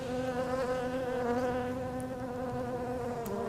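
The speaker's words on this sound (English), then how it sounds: "Watch this worker bee." A Carniolan worker bee buzzes close by in a steady, sustained hum with slight pitch wavering, continuing without voices throughout.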